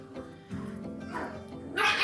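Puppies yip and whimper close by in quick, overlapping little sounds, rising into a sharper squeal at the end, with scuffling play.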